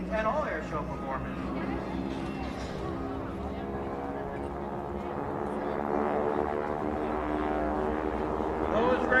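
Geico Skytypers propeller aircraft flying at the 2022 Jones Beach Air Show give a loud, steady, droning engine hum with layered tones that holds for the whole stretch and swells slightly toward the end.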